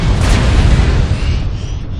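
A missile explosion in a snowy video game battle, a deep, loud rumbling boom that rolls on and slowly fades over about two seconds.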